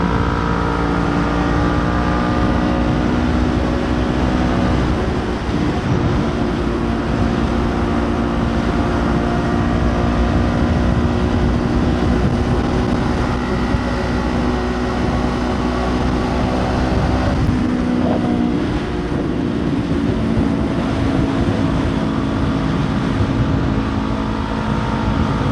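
Steady loud roar of a modest-powered motorcycle cruising at speed with a tailwind, engine drone and wind rush blending into a constant close wash of noise that holds level throughout, with no speech.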